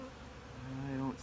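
Honey bees buzzing on a frame lifted from a temporary hive, a close, soft, continuous drone that swells slightly toward the end before cutting off.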